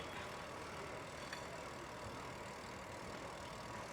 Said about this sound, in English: Oh, there's a traffic jam.